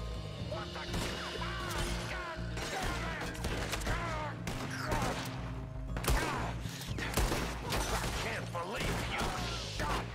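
Chaotic video game shootout in a Red Dead Redemption 2 town mission, with repeated sharp gunshots cracking over tense background music and shouting voices throughout.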